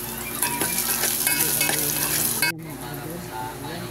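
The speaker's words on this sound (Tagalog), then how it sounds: "nilagyan ko na ng mantika at nilagay ko na yung ating bawang. Ayan, at sinabay ko na yung ating sibuyas" Garlic and onion fry in oil in a pot, with a loud, close crackling sizzle and spatula stirring scrapes, then an abrupt cut to a quieter, softer hiss.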